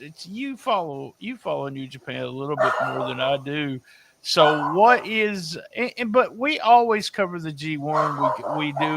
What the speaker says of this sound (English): man, that dog's loud.